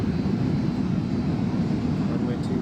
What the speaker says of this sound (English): the Ryanair is just lining up now on runway